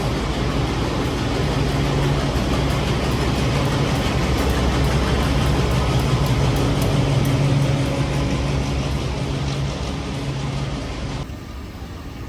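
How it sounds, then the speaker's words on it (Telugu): A KTM local commuter train at Batu Caves station in Malaysia, a steady loud rumble of train and rail noise running throughout with hum and rattle, easing slightly near the end. "కేటీఎం ట్రైన్సే బాటు కేవ్స్కి వెళ్తాయి."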